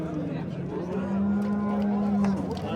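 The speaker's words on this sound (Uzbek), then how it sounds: "Mana yana bir sigirimiz." A cow at a livestock bazaar gives a long, drawn-out moo, sustained and fairly close, rising over the murmur of a busy market crowd.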